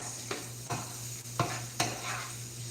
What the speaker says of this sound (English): Now we just saute these onions